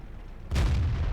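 A tank cannon fires in a tank video game, a single sudden heavy boom with a sustained low rumble after it, loud and alone, following a brief stretch of quiet background.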